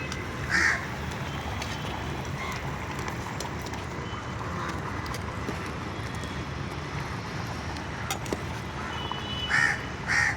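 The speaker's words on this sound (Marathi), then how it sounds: "त्याच्यावर काव्वा मामा पण बसलाय ते बघा." A crow caws a few times in short bursts at the start and again near the end, fairly distant, over a steady outdoor background hum during an outdoor mutton cookout.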